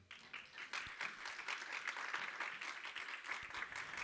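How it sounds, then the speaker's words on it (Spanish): A church congregation claps for the Lord, a fairly faint but steady patter of hand claps that starts abruptly and continues evenly until the end. "Dale palmas al Señor."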